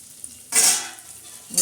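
Chopped garlic and onion hit hot oil with a loud burst of sizzling, which eases off into a steady fry before a second sharp sizzle flares up, close by.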